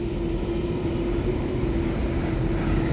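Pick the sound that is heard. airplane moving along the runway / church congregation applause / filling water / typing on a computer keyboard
airplane moving along the runway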